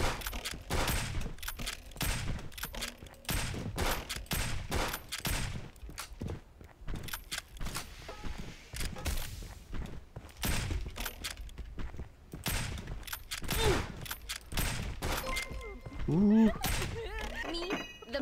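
Gunfire in the video game FVF, dense rapid bursts of shots running nearly throughout, loud and close with occasional metallic clinks, under a speaking voice.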